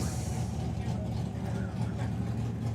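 The engine of Cliff Turner's Dodge Dart drag racing car rumbles steadily at a Mopar drag racing event, a deep continuous throb with harmonic tones, fairly close and unbroken for the whole stretch.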